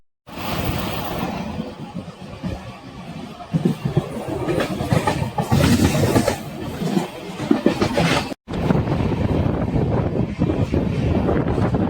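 An LHB-coach Intercity Express from Danapur to Jogbani runs on the line near Samastipur, giving a steady, loud rumble with wind buffeting throughout and a brief dropout near the end.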